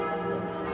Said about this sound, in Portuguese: Os sinos das igrejas de Copenhague tocaram ao mesmo tempo.